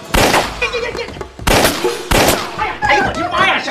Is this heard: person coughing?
no